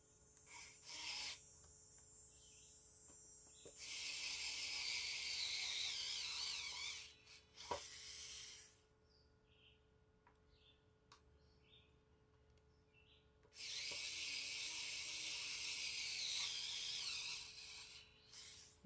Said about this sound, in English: take my electric screwdriver and screw in the